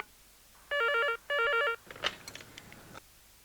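A telephone rings on a call to a mobile company: two bursts of electronic ring tone, then a few clicks and a soft rustle as the line is picked up, with no voices.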